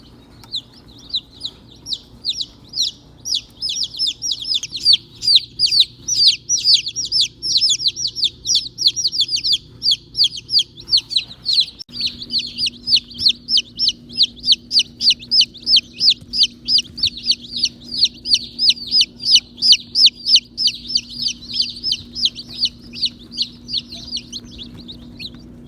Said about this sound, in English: They're actually very lively for chicks that just shipped in really cold temperatures